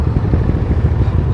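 A pack of nine motorcycles pulling away together on a group ride, engines rumbling loud and close in a steady, throbbing low drone with a light mechanical clatter.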